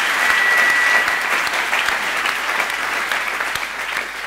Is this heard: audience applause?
yes